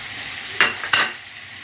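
Vegetables frying in a pan, seasoned with salt, sumac and black pepper. A quiet sizzle runs throughout, with two short bursts of stirring or scraping near the middle.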